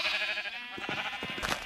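Sheep bleat close by in Minecraft, giving a few short wavering calls in quick succession over a soft steady background hum. No one speaks over them.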